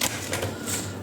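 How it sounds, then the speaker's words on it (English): Oracle cards shuffled on a crowded table, giving a brief run of quick papery clicks and riffles, close and fairly loud, with no talking. "Why am I shuffling so badly?"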